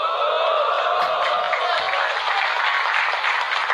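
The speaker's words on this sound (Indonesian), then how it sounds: "Tepuk tangan dalam masjid." An audience in a mosque applauding, a dense, sustained wash of many hands clapping at once, loud and steady throughout without a clear break.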